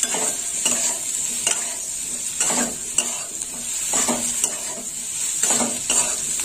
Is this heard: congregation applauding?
no